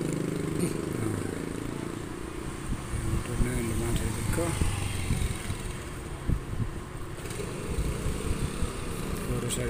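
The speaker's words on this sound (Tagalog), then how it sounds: "pang-anim na motor na dumaan sa likod ko" A motorcycle passes behind someone walking along a quiet residential road, its engine drone rising and fading under steady talk.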